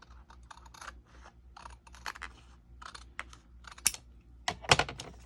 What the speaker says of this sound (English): And I'm going to use my big scissors. And we're going to cut right here.